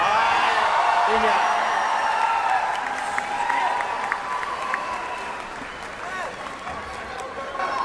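Crowd cheering and applauding at a Vietnam vs India mixed quadrant sepak takraw World Cup match, loud dense clapping with whoops that gradually eases off, under a commentator's voice.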